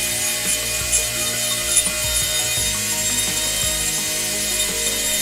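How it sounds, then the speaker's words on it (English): A quiet rotary carving tool, similar to a Dremel, works on wood while carving a figure, giving a steady close rasping, grinding hum throughout with no pauses or voices. "This tool is rather like a Dremel,"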